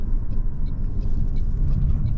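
A 2023 Toyota Prius XLE AWD driving on a road, heard as a loud, steady, low road-and-tire rumble from inside the cabin, with no voices.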